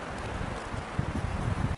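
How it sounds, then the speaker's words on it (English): Strong wind buffets the outdoors at a deer hunting camp in cold weather, a steady roaring rush with gusty bumps against the microphone that cut off abruptly. "It is still just so windy."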